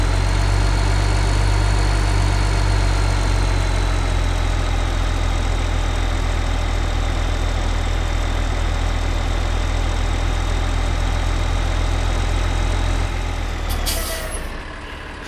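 A tractor engine idles in the farming game Farming Simulator 15 with a plough hitched on the back, a loud, steady low diesel rumble that holds constant, then drops off sharply near the end.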